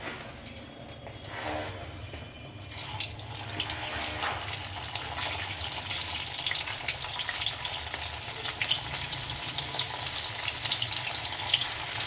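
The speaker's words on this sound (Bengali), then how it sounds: "তেলটা আমার গরম হয়ে গেছে। এরপর আমি এগুলো সব ভাজবো ওতে" Chicken balls for chilli chicken sizzle steadily in hot oil, a loud, continuous crackling fry that swells after a quieter start and carries on for about ten seconds without talk.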